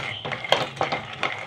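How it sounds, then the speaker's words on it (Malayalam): Peanuts drop into hot ghee in a pan, with a few distinct clattering hits spaced a fraction of a second apart. Faint sizzling runs beneath, close and fairly loud. "ഈ നെയ്ക്കകത്തോട്ട് ഈ കപ്പലണ്ടി ഇട്ട് കൊടുക്കാം. എന്നിട്ട് വേണം നമുക്കൊന്ന് വറുത്തെടുക്കാൻ."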